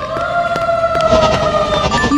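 Synthetic siren effect from a blindfold video game: a steady two-tone electronic wail that holds level and loud for about two seconds, with faint clicks and game sounds around it.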